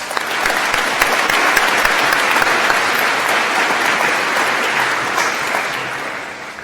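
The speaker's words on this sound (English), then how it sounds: "Let's give them a round of applause." A large audience at a university commencement ceremony breaks into sustained applause, loud and steady throughout with no voices over it.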